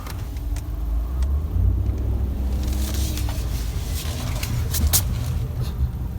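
A car engine hums steadily with low road rumble during a slow, tight turn, with a few faint clicks and rustles near the end and no talking.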